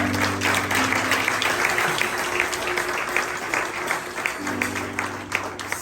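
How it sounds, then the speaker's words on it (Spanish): A congregation claps for the Lord during an evangelistic church service, steady crowd applause with a low sustained musical tone beneath it. "Denle un aplauso al Señor en esta hora"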